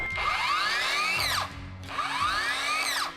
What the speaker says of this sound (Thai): แล้วก็มีซอฟต์สตาร์ทด้วยนะครับกดแล้วเนี่ย